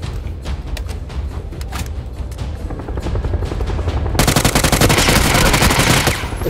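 Rapid automatic gunfire in the video game PUBG, a dense continuous burst of loud shots that grows heavier and more intense in the second half, with no talk over it.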